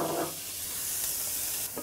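Carrots and celery hit hot oil in a pan with a brief sizzle and a stir, a soft, close frying crackle for a moment.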